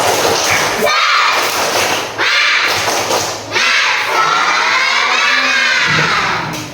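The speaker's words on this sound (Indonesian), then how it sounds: "Ya, kita tepuk semangat dulu terlebih dahulu ya." Primary schoolchildren in a fourth-grade classroom perform a spirit clap chant, shouting together in loud bursts with rhythmic thumping claps, a teacher's voice leading between the rounds.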